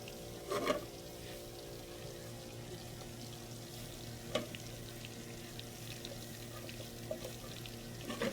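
Butter melting into flour in a hot pan for a roux, a faint steady sizzling hiss with a few soft clinks and stirring sounds, quiet and close, with no talking.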